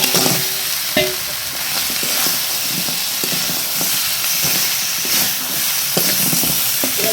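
Spiced curry with chopped chilli and homemade masala frying in a pan just after more ingredients are poured in, giving a steady, loud, close sizzle broken by scraping stirs and occasional clanks.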